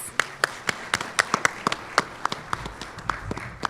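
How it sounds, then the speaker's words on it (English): Sparse, individual claps ring out at a public university funding event, a small audience applauding a speaker with distinct, irregular hand claps rather than a dense ovation. "Let's give her a round of applause."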